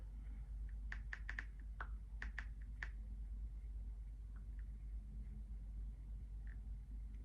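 A quick cluster of soft clicks from a computer keyboard, then a few scattered taps, all faint over a steady low rumble.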